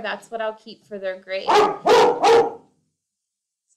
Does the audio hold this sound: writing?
no